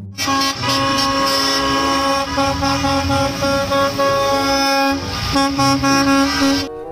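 A school bus horn blares loudly and almost continuously for several seconds, with a low engine rumble underneath and brief dips in the tone.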